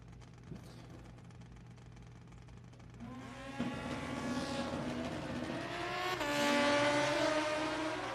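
Racing motorcycle at a drag-style sportsman race, engine note rising sharply as it launches and accelerates away, loud and fairly close, with a steady background hum and no talk.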